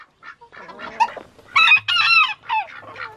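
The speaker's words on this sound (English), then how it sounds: "Hey, I got your hen." Small hen clucking and squawking up close in a run of short, loud, agitated calls with brief pauses between them.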